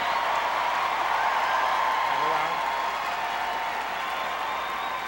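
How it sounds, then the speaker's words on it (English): An arena crowd of over 20,000 applauding at the Westminster Kennel Club Best in Show 2006, a dense continuous wash of clapping heard from a distance, with a commentator talking over it throughout. "And our crowd applauds their approval"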